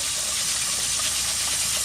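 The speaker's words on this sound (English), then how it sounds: "so I'm just gonna have the water running, cold water running over it" Cold tap water runs steadily over rice in a fine mesh strainer, a continuous close hiss and gush of rinsing water with no talk.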